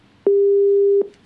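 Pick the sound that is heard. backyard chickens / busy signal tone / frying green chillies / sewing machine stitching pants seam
busy signal tone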